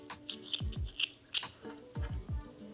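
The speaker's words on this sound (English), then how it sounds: "Then you're going to take your scissors and go ahead and cut off the ends." Scissors snipping off yarn ends after a knitting join, several close, quiet crisp cuts in irregular succession with short pauses between.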